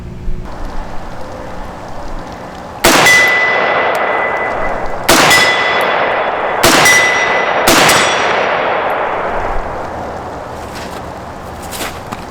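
An AR-15 rifle chambered in 7.62x39mm fires four loud, sharp outdoor shots at uneven intervals, each with a ringing metallic crack and a long fading echo, with no speech.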